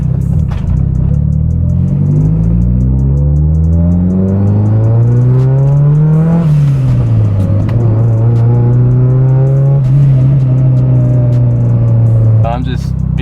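A Mitsubishi Evo 9, running damaged but still boosting, revs loudly and accelerates through rising engine pitch, with a gear change midway and a steady drone before the throttle lifts near the end; a voice talks over the engine.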